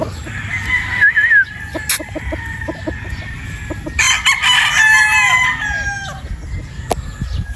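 Pure Boston Roundhead gamefowl rooster crowing nearby amid other fowl clucking, with several loud crows over a constant farmyard background of clucks and scratching.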